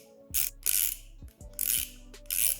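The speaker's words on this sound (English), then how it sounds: "Ratcheting function also very nice and smooth." A Facom 467B ratcheting wrench clicks close up in quick bursts, four rapid runs of ratchet-pawl clatter separated by short pauses, crisp and alone.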